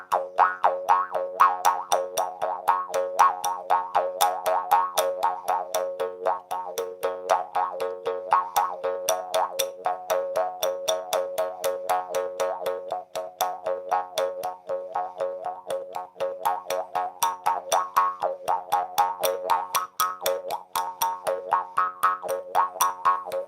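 A jaw harp twangs in a steady, bouncy rhythm of rapid plucks, its buzzing, wah-like tone shifting continuously, close and fairly loud with no voices.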